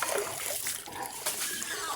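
Water splashing and trickling as pigs' mouths are wetted on a farm, close and fairly soft, a brief stretch of splatter and sloshing.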